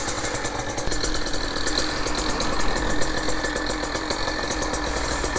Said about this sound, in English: the RPMs will slowly drop and settle into where it should be